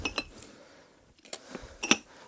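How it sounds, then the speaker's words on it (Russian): Old Soviet drinking glasses clink together a few times in sharp, bright, brief chimes with quiet pauses between them, close by and alone. "Посуда, стаканы"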